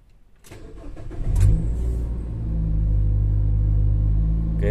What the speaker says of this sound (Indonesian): Saya akan start.